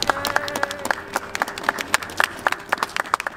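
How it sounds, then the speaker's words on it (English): Scattered hands clap at a Martin Luther King Jr. holiday celebration in St. Louis, a sparse, irregular patter of claps that greets a reverend from the St. Louis Clergy Coalition, fairly close and without talk. "Please give him a big round of applause as he comes"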